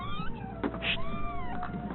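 Cats meowing indoors in an apartment, several rising and falling tonal cries over about two seconds against a steady low background hum, fairly close and moderately loud with no talk.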